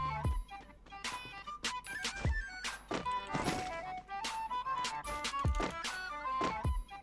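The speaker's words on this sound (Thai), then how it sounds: "นี่เสียงชักปืน" Sharp mechanical clicks and thunks of a gun being drawn in Free Fire, several separate impacts spread across the clip over a steady electronic background.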